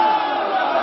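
Dense crowd roar answering a chanted slogan at a Muslim religious gathering honouring Imam Husain, a sustained loud collective shout of many voices filling the whole moment.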